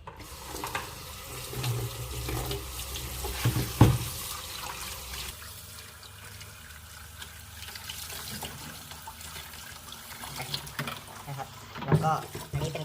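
Tap water runs into a sink while egg tofu is rinsed, a steady splashing flow with occasional louder knocks and handling sounds.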